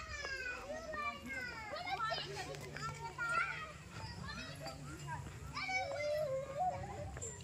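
Children shout, squeal and chatter while playing in a children's park at Jharkhali, many overlapping high voices at moderate distance with a low hum underneath.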